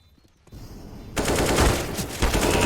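Gunfire in the tactical shooter CS:GO during a competitive match, a faint opening that swells into dense, rapid automatic shots and overlapping bursts.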